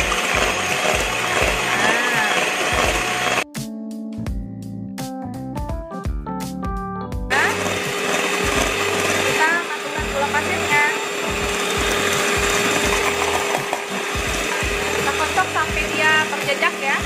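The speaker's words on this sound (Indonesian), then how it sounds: "Kita kocok naik dulu si telur, lalu sudah agak naik baru kasih gula pasirnya seperti ini ya." An electric mixer whirs continuously while beating eggs and sugar for a pandan sponge cake, a steady motorized hum with a brief change in pitch partway through, as background music plays over it.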